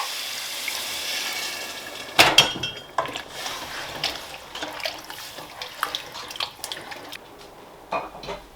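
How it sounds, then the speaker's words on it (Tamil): Water is poured into a pot holding soaked meat while cooking a cheese kottu, a steady splashing pour that breaks off, followed by clinks of utensils against the pot, close and moderately loud. "அதுக்கு பிறகு தேவையான அளவு வாட்டர் ஆட் பண்ணுங்க."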